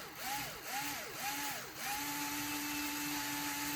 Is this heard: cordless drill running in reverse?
yes